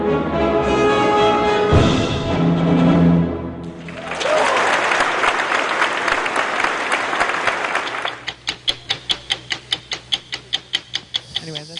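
Audience applause at a classical music panel event: broad clapping rises after a voice, then thins into distinct, rhythmic individual claps near the end.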